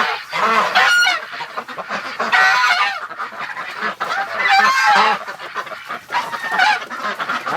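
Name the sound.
Muscovy ducks in a barn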